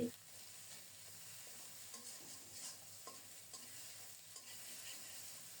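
Spice paste with raw peanuts and garlic fries in a pan with a soft, steady sizzle and occasional stirring scrapes, faint and continuous without talk.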